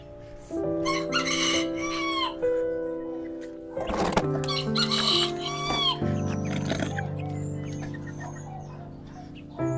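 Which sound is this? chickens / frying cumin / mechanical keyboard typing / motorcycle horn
chickens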